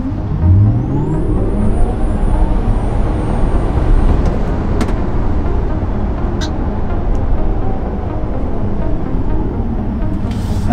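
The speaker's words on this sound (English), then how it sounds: "Test number one, 0 to 60 with stock 20-inch wheels and tires. And off we go." A Tesla Model 3 Performance on stock 20-inch wheels launches from 0 to 60 mph, a loud steady rush of road and wind noise with a rising electric whine that holds throughout.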